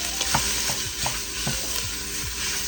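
Sausage meat, crushed garlic and onions frying in a pan on a hot stove for a kale and bean soup, with a steady close sizzle and repeated scraping strokes of a spoon stirring at a regular rhythm.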